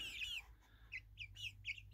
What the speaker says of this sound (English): Today is the baby chickens.